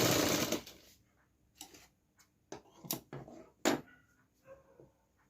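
A sewing machine stitches the neckline of a suit in a loud, dense burst at the start, then gives several short, separate runs of stitching and clicks, close by with no talk.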